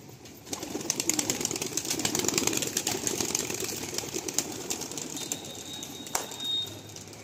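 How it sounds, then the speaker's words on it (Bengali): Pigeons are let out of a loft in Sonarpur, Kolkata, with fluttering bursts of wingbeats and soft cooing near at hand, over a faint engine hum in the background. "এই পায়রা উড়ান দিয়ে দিল ভাই।"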